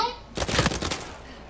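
A quick burst of several gunshots rattles out in Uncharted 4: A Thief's End, a short cluster of sharp cracks at moderate distance, with faint voices around it.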